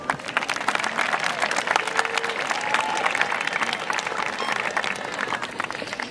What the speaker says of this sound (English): Class of 2024, please applaud this prestigious group.